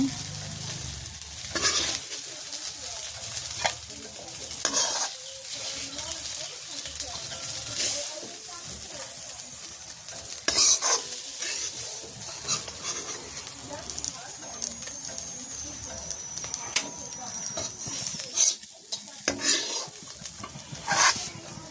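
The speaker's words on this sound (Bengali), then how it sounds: "লাল শাক ভাজি হয়ে গেছে, আমি এখন নামাই নেব" Red amaranth greens stir-fried in a pan in a village kitchen, a steady sizzle under repeated scraping strokes of a spatula against the pan, close and moderately loud throughout.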